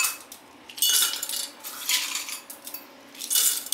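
Crushed ice clatters into watermelon juice with sugar, black salt and cumin powder, several bright clinking, rattling bursts close up, separated by brief pauses.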